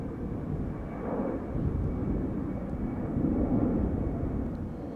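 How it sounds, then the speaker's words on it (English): A Delta Airlines jet, flight 243 to Boston, turning at the southern threshold of the central runway at Amsterdam Schiphol, gives a steady low engine rumble that swells slightly toward the end, continuous and without talk. "now turning around the southern threshold of the central runway is Delta Airlines flight 243 going to Boston"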